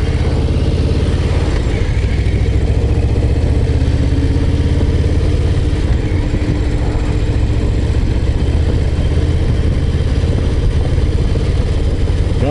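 A Harley-Davidson Low Rider ST motorcycle cruises along a road, its engine giving a steady, loud low rumble mixed with wind noise that holds without a break for the whole stretch, with no voices.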